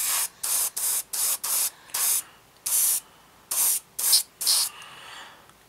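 Tamiya 1/48 Spitfire Mk.1 model kit being spray painted up close: about ten sharp hissing bursts of the airbrush or spray can, some brief and some longer, with quiet gaps between them and no talking.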